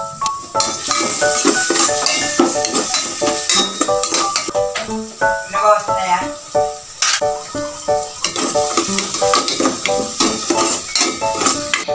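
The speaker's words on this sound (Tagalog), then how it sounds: "Ilagay na yung hiniwang sibuyas. Isunod ng igisa ang bawang." Sliced onion and garlic sauté in about two tablespoons of oil in a pan, with a steady sizzle under repeated metallic scrapes and clinks of a utensil stirring against the pan, close and fairly loud.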